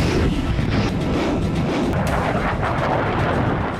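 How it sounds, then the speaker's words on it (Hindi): A Grad multiple rocket launcher fires a salvo of rockets, a loud continuous roar of overlapping launch blasts and rushing noise with sharp cracks throughout, heard close with heavy wind buffeting and no talk. "अब रूस ने यहां grand multiple rocket launcher system से यूक्रेनी सेना पर बड़ा वज्रपात किया।"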